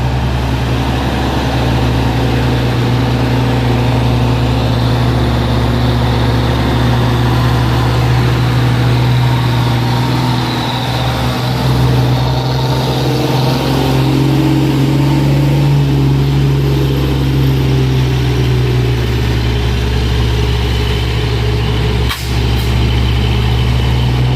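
Two trucks, a Fuso Super Great and an Isuzu, labour up a steep incline, their heavy diesel engines droning loud and steady throughout, with no talk.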